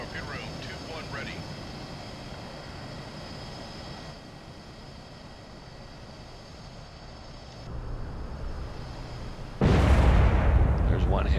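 A torpedo hit bursts out as a loud, broadband blast near the end, following a steady low rumble of submarine ambience in the Cold Waters naval warfare game.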